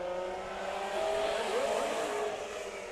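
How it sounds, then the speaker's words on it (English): Four-cylinder, rear-wheel-drive race cars roar past at Stockton 99 Speedway with a continuous engine whine, one pitch sweeping as a car goes by, steady and fairly loud. "Pretty cool race cars."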